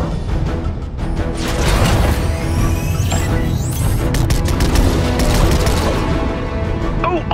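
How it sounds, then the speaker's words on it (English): Battle Bus laser cannons in the Fortnite video game blast at drones during the Galactus event. Dense, loud bursts of rapid fire and crashing impacts continue throughout, with sweeping whooshes and a few sharp high zaps. "I was hoping we'd have an excuse to try out the Battle Bus's laser cannons."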